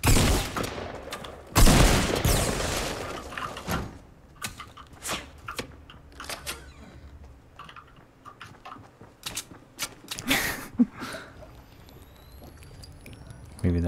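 Gunfire in the Fortnite video game, with a loud opening volley and then scattered sharp shots and clicks popping irregularly over several seconds.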